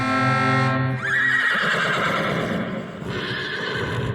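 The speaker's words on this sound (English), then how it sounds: "here's our goal horn" A loud horse whinny rings out as a goal horn in an NHL 21 ice hockey video game, followed by a noisy, crackling game sound effect that continues to the end.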